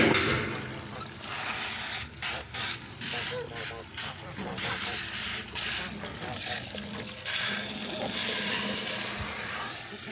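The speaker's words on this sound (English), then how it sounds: "So let's start filling this one up." Water runs steadily into a bin for washing garden mustard greens, a continuous gushing and trickling with a person talking over it.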